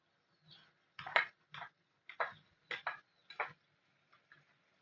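Spatula scrapes and taps in a pan as onions are mixed into beef mince, a series of short distinct scraping strokes in an uneven rhythm, close and fairly quiet.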